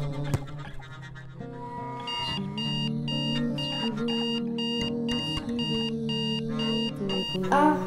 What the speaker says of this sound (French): Ah, le réveil a sonné.